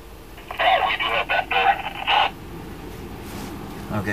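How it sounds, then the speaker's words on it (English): An outgoing phone call rings out during a fugitive-recovery operation, giving several electronic ring bursts over about two seconds, fairly clear and close, followed by low background noise. "I'm gonna try to call him on his phone."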